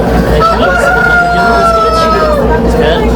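A rooster crows once, loud and close, over a low steady hum.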